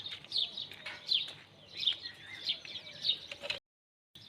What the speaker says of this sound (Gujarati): પક્ષીનો કલર આવો મસ્ત મજાનો સંભળાઈ રહ્યો છે